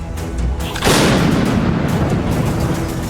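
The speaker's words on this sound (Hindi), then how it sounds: "बैटल ग्राउंड पर यूक्रेन ने फ्रांस से बनी सीजर होवित्जर तोपों का इस्तेमाल किया।" A French-made Caesar howitzer firing on a Ukrainian battlefield, one heavy booming blast that rolls into a long, loud rumbling decay lasting a couple of seconds.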